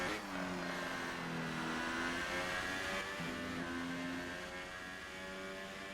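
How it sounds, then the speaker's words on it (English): Race car engine in an Austria round of a League of Europe racing video game, a steady loud mid-pitched drone with rising and falling harmonic tones as the car accelerates and shifts, continuous throughout. "Can't hear you over the engine sound."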